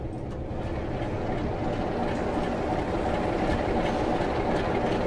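Class 47 diesel locomotive number 47471 in Train Sim World 2, a constant loud rumble of engine and rolling stock with faint clickety-clack of wheels, steady throughout with no voices.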